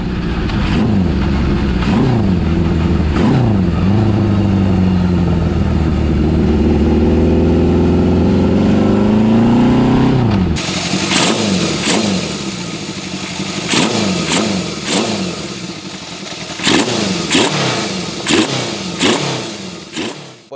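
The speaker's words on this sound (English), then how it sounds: "then I'll rev the motorcycle and you guys can see all the carburetors working" An original Honda CB750 Four engine with four synced carburetors revs up and down repeatedly, rising to a high pitch then settling, followed by sharp throttle blips and rumbling idle nearby.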